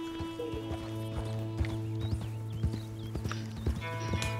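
Horse hooves clip-clopping at a steady walking rhythm in Red Dead Online, a series of close, distinct hoof knocks over a low ambient hum with a brief whinny-like sound.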